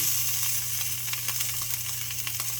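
Salmon frying in a pan, a steady close sizzle with crackling pops throughout, alone and even in loudness.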